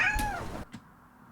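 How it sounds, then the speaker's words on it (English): A cat lets out a single clear, close meow that bends downward in pitch, followed by a faint short trailing sound and quiet. "Just take random cat sounds"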